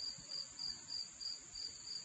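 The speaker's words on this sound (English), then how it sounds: "the sound of crickets" Crickets chirp steadily in a quiet night setting near a barn, a high pulsing trill repeating in regular bursts about every third of a second, soft and alone with no voices.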